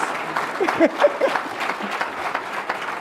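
Applause from a room audience at a business community celebration, a dense wash of clapping lasting a few seconds with a few faint voices mixed in.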